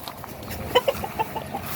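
A pure Jogud gamefowl hen clucks in short, scattered bursts over a soft farmyard background, a few clucks spaced irregularly.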